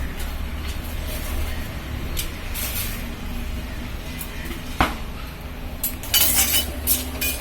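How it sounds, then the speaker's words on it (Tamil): Pieces of cinnamon bark are dropped into a pan and dry-roasted for homemade tooth powder. Scattered clinks and light knocks of bark against metal sound over a low, steady background hum, with a louder cluster of taps near the end. "இப்போ இந்த பட்டையை போட்டு லேசாக வறுக்கலாம்ப்பா."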